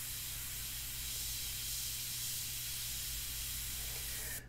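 An airbrush sprays India ink onto paper for a portrait, giving a steady, soft, continuous hiss that holds evenly close to the mic and cuts off sharply at the very end, with no voices.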